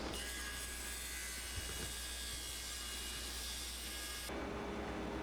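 A table saw or miter saw cuts a 3/4-inch strip from the end of a wooden panel, a steady loud whine of blade through wood that holds for several seconds, then shifts to a lighter running tone near the end.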